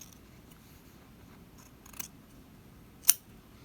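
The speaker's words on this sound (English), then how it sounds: "And I will just cut right on that stitching line." Scissors snip through lining fabric along a stitching line, with a soft cut near the middle and a sharper, louder snip near the end over a quiet background.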